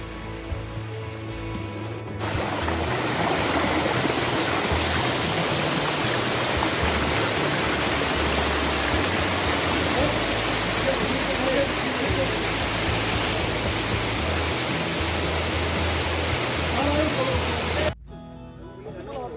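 Waterfall deep in the Jim Corbett forest, a loud, dense and steady roar of rushing, splashing water heard close up, holding constant for most of the stretch before cutting off near the end.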